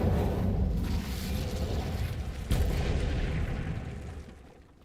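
An Incendio fire spell is cast in Hogwarts Legacy, a loud roaring whoosh of flame with a booming burst midway, sustained then tailing off.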